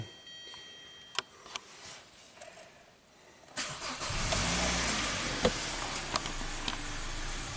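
A Hyundai engine on a car with a charging fault starts after a few clicks and ticks, then runs with a steady mid-range hum that rises slightly as revs increase, recorded close with no talking.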